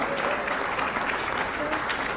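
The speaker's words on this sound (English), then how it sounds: "There aren't many places I'd go for a party where people would applaud efficiency standards." An audience at a party applauds with a brief, steady burst of many hands clapping together, filling the room evenly from start to finish.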